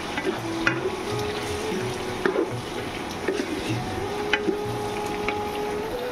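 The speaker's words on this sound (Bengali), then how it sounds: "সাদা তেলের সঙ্গে শুকনো লঙ্কা, তেজপাতা আর একটু ডালচিনি দিয়ে ফোড়ন দিয়ে আলুগুলো ভালো করে লাল করে নিচ্ছে" Potatoes fry in white oil with dry red chillies, bay leaf and cinnamon, giving a steady, moderate sizzle under occasional stirring clicks and scrapes, with faint background hum.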